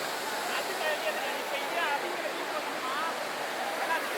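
The Hogenakkal waterfall pours water with a steady, dense roar of rushing and splashing. It sounds fairly loud and unbroken throughout, with faint voices in the background.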